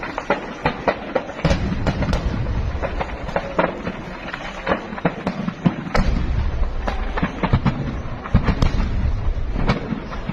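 A blast hits a Pakistani army ammunition depot in a cantonment area, and sharp, cracking bangs and pops go off in rapid, irregular succession over a rumbling background, with no talk.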